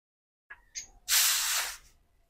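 A short burst of pressurised air from a compressor or hand pump fills an acetal valve barrel, preceded by a couple of faint clicks and followed by a steady, close hiss lasting about a second before tapering off.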